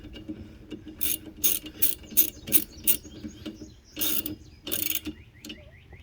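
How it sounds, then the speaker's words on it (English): Wiper motor mounting bolts being snugged down with a ratchet, giving rapid close-up bursts of clicking pawl sounds in short repeated runs, with a pause between sets. "I'm going to tighten them down just enough so they will stay in place."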